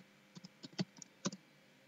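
Typing a font name into a search box on a Windows 10 computer keyboard, a short run of quiet, uneven key taps with gaps, close and faint with no voices.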